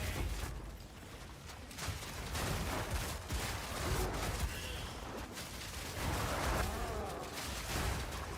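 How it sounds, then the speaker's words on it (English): Corpse explosion in the video game Path of Exile 2: dense, crackling bursts and booming blasts layered over a busy, continuous wash of combat noise for several seconds. "And a big corpse explosion."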